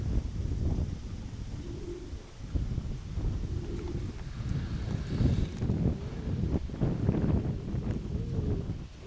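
Pigeons cooing close by in soft, repeated low coos that recur every few seconds over steady outdoor background noise and light wind.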